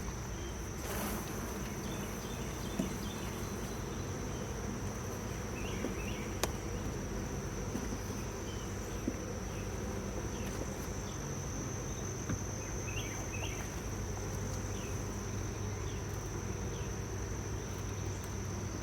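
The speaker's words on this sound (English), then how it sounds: "this colony is thriving. I like to see the amount of bees here." Honeybees swarming around an open, thriving beehive colony during an inspection, a dense continuous buzzing drone close by, steady throughout with a constant high insect whine over it.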